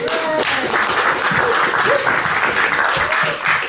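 An audience applauding a panel, loud close clapping filling the whole stretch, with a few voices and cheers mixed in.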